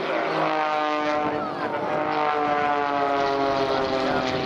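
Pitts Special S2S aerobatic biplane at an air show, its propeller engine droning loudly and steadily with a rising and falling pitch as it passes, heard alone throughout.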